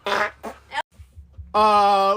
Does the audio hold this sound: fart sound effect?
yes